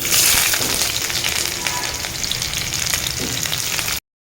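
Onions hit hot oil in a wok with a loud, dense, continuous sizzle that stays close and steady throughout, with faint stirring scrapes and no voices.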